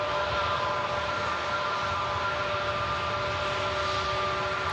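An Aegean airliner arriving from Athens at Manchester Airport produces a loud, sustained jet roar with steady whining engine tones layered on top, close and unbroken, with no voices.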